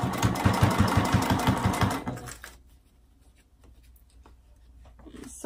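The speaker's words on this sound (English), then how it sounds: "Sewing along the bottom edge." Sewing machine stitching the bottom edge of a fabric ID badge holder, a fast rhythmic mechanical chatter for about two seconds that then stops, leaving near quiet with faint handling sounds.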